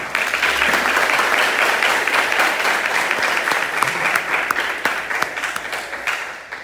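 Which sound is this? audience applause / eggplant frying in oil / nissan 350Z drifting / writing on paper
audience applause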